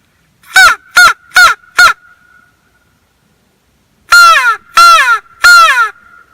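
Loud turkey hunting call blown in two bursts: four short sharp caws, a pause, then three longer, harsher caws, clear and close.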